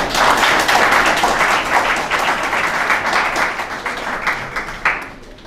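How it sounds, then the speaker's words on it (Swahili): Audience applause at a lecture hall after a speech, sustained and dense throughout, close and loud, tapering slightly toward the end with a brief final burst. "Hebu naomba tuongeze makofi jamani"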